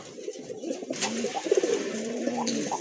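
Pigeons coo nearby in soft, repeated throaty warbles, overlapping calls rising and falling against a quiet background.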